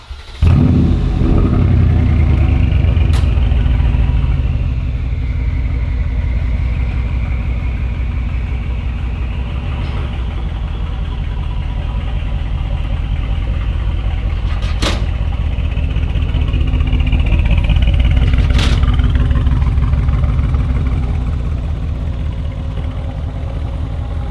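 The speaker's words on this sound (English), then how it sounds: "We're about to start it up and give it some revs." A Mercedes G63 AMG's V8 engine with muffler delete and Y-pipe barks to life, then idles with a deep, loud rumble, punctuated by several sharp revs that rise and fall.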